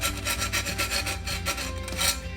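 A metal file scrapes back and forth over the edge of a 6-inch drywall knife, rounding it off in quick, even rasping strokes of about five per second, close and alone.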